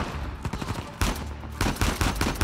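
Rapid gunfire in the video game Uncharted 4, a few sharp close shots followed by quick bursts of automatic fire, loud against a quieter game backdrop.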